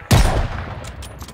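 A single sharp, loud gunshot goes off close by in Call of Duty Vanguard's Tobruk battle, then trails into a short fading echo.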